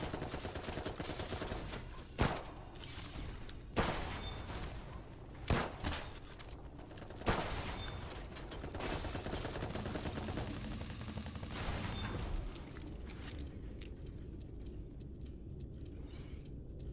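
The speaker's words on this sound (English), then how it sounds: "take a couple shots with the sniper rifle and then like zoom in close and then shred with the SMG" Sniper rifle and SMG gunfire in the video game Dolls Nest, several sharp shots spaced a second or two apart over a dense, busy game soundscape with rattling bursts, no talking.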